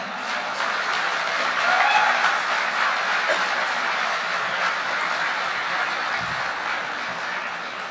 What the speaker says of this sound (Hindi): आप सब की भरपूर तालियों में इंडिया से तशरीफ़ लाए मोहतरम आलोक श्रीवास्तव।